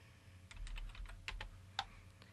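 Quick clatter of keystrokes on a computer keyboard, a short burst of close, crisp taps with one sharper click near the end, heard alone without talk.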